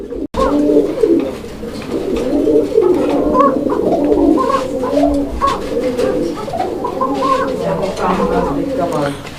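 A pair of koka pigeons coos steadily and fully, throaty repeated calls filling the space close by, with some voices talking in the background.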